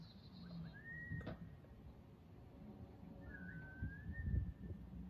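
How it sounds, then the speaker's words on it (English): Two wavering whistled notes sound at different moments, each a short rising then level tone, separated by a pause, with a low rumble of background noise and a brief knock between them. "You'll know a hunting gambit is in progress by the stranger's erratic whistling pattern."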